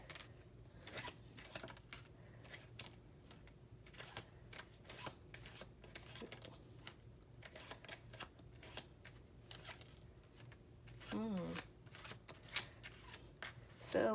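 A large deck of tarot cards being shuffled and pulled in a quiet room, with repeated soft papery riffles and flicks, faint and close, a few sharper snaps near the end.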